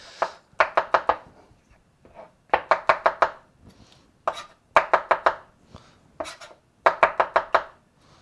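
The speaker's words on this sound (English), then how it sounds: "I'm bringing the knife up, down, I'm moving my non-knife hand a certain increment, the knife meets the knuckle, comes down again" A knife chops mushrooms on a cutting board in quick bursts of three to five crisp, close knocks, each burst separated by a short pause, with no talking.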